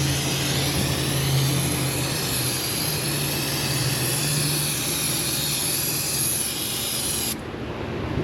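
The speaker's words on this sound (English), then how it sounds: "Give it a good hose down." Steady broadband hiss of water from a hose spraying the underside of a Lotus Elise 1.8 to wash off green air-conditioning leak dye, loud and continuous with no talk, cutting off abruptly near the end.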